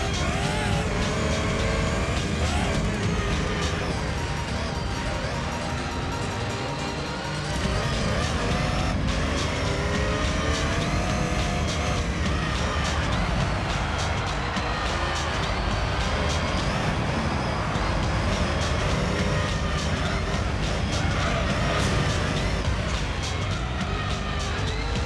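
Racing cars, a Viper among Chevrolets, in the video game Gran Turismo 3: A-Spec, engines droning and revving loudly and steadily throughout, with shifting pitch, occasional tire squeal and cars passing close by.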